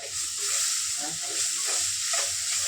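Onions sautéing in a pan for ash gourd chicken curry, a steady close sizzle and hiss with occasional soft stirring scrapes.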